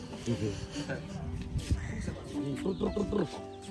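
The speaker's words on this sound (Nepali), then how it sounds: "कुखुरालाई भात दिन्छ" Chickens at a village home cluck in short, close bursts, scattered throughout while people talk over them.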